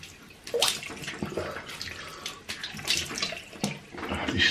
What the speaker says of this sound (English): So, quick rinse off.